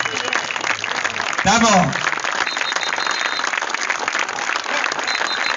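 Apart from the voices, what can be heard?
audience applauding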